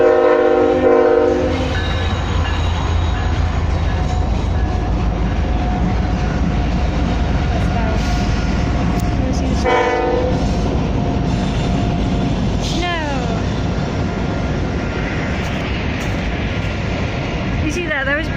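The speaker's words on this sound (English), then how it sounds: "there's a train going past." A train rumbles past close by while its horn blares in long tonal blasts, the clatter of wheels continuing steadily throughout.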